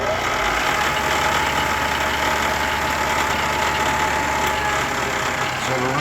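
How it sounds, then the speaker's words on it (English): A three-phase converter powering a coil-winding machine running steadily at 500 RPM, a loud, close, continuous mechanical hum and whir with a constant drone and no breaks. "Start the three-phase converter. I've got the machine set right at 500 RPM."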